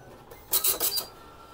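An Epson LQ dot matrix printer prints a settings page with a short burst of rapid, rasping print-head passes, four quick pulses close by in a quiet room.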